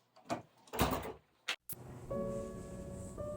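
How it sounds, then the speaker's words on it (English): A heavy door swings and shuts with a few knocking, thudding impacts, followed by a steady low hum and tonal ringing in the room afterward. "This is a heavy door."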